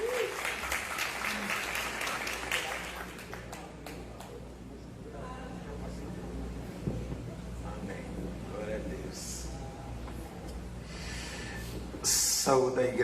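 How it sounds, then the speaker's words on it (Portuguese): Congregation applauding during a church service, a steady wash of clapping that holds for the whole stretch and grows louder near the end, with voices and movement mixed in. "Mais uma vez, você pode aplaudir o Senhor."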